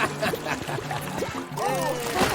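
Cartoon oil trickling and pouring from a leaking barrel into the ocean, a soft, steady liquid dribble with a cartoon voice speaking over it.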